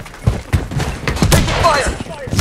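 Gunfire from the Blood Strike PC shooter game crackles in loud, close bursts, a string of sharp shots and rapid fusillades layered over clutter and game effects.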